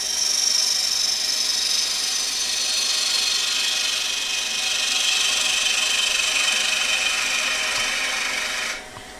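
A woodturning gouge shears steadily across spinning wood on a lathe, a continuous bright rasping hiss held at even strength for about nine seconds before cutting off abruptly near the end.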